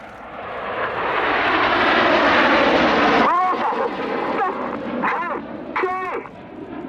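Red Arrows jets at the Yeovilton Air Day 2017 airshow make a loud, swelling roar that builds and then drops away, followed by fainter engine noise under a voice talking.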